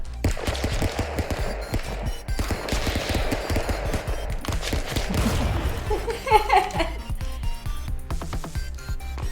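Rapid gunfire from guns on top of towers in a video game, dense bursts of shots that continue almost nonstop and sit close and loud, with faint laughter mixed in.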